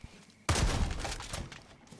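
A single loud shotgun blast goes off in the Far Cry 5 game, a sharp close boom that fades over about a second and a half after a brief quiet start.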